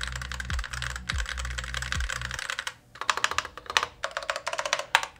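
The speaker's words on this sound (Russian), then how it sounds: "эта клавиатура с, да, уродскими кейкапами и шрифтом, но послушайте, как она звучит" A DexMaze mechanical keyboard with stock keycaps clacks under fast, close typing, first with a low hum beneath, then in crisp rapid bursts of keystrokes.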